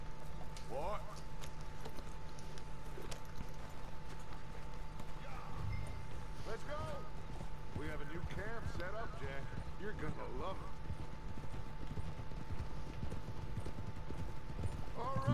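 Horse hooves clip-clop steadily through Red Dead Redemption 2 as the rider sets off toward a party at the mayor's house, a continuous moderate trot beneath a constant background hum, with occasional whinny-like tones mixed in.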